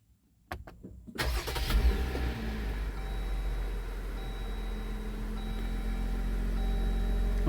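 A Jeep engine cranks and catches right after its battery is replaced, then settles into a steady, close idle with a low rumble that runs on alone to the end.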